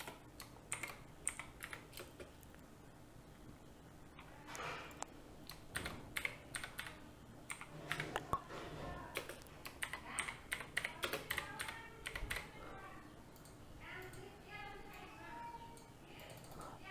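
Someone types on a computer keyboard in bursts of quick, close, light key clicks with short pauses between them, while someone talks over the typing throughout.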